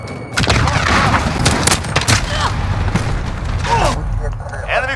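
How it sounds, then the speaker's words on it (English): Dense gunfire and booming impacts from a Modern Warfare match build into a loud, continuous barrage, with a cruise missile strike landing among repeated blasts while a player talks over the chaos. "Enemy cruise missile!"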